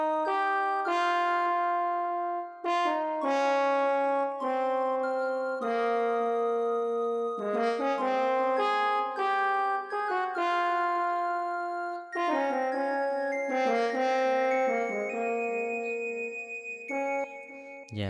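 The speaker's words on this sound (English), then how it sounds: "So let me play you this sound together, how they sound like after I layer them." Layered Afrobeat intro sounds with piano, bright melodic chords and plucked tones stacking into a full, steady loop, moderately loud and uninterrupted, with no talking.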